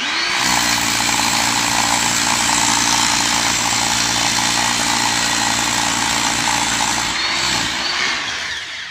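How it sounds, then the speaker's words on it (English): A power drill bores into a concrete block basement wall with weep holes, one loud continuous whine running for about seven seconds before winding down, close and alone. "Gonna try and drill and record here at the same time"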